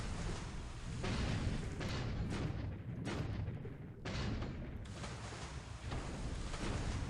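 In the War in the Pacific naval game, a torpedo strike erupts as a series of heavy, rumbling booms, loud and sustained, with repeated blasts rolling one after another.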